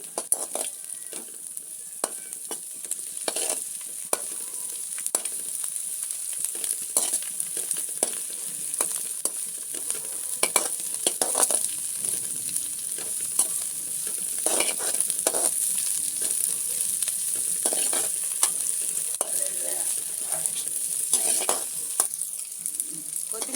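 Fresh, dried coriander leaves frying in a pan for chutney, giving a steady sizzle broken by frequent scraping stirs, close and fairly loud, with no talking.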